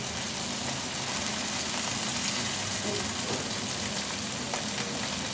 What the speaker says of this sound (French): Pendant que la viande rôtit